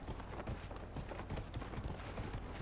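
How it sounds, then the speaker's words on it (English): Hooves of a horse ridden in Dragon Age: Inquisition clip-clop in a quick, steady rhythm, fairly close and continuous, with no talking. "So let's get the horse again."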